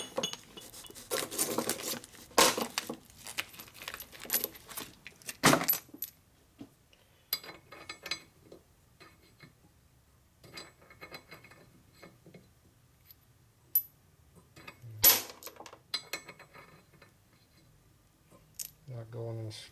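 Metal cylinder studs from a 1972 Harley FLH shovelhead stroker rebuild kit clinking and jangling as they are handled, a cluster of close metallic clinks, then sparse taps and a few sharp knocks.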